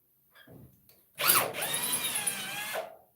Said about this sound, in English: That sounds like could be a broken drill bit real quickly.